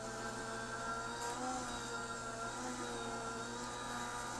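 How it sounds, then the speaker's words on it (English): Anna Griffin Mini die cutting machine running steadily, a continuous motorized hum and whir with low tonal drone throughout, fairly faint and close, without speech. "So I'm going to run this through the die cutting machine."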